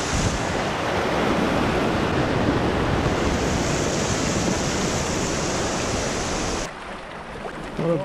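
Water from a large river tributary rushes through a forest, a loud, continuous broadband roar close by that drops off abruptly to a quieter wash near the end.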